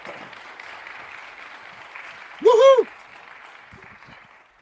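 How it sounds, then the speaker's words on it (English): Audience clapping for Captain Marquez at an Altadena Memorial Day community gathering: a steady wash of applause runs throughout, with one loud cheering whoop rising above it midway. "please clap your hands for Captain Marquez"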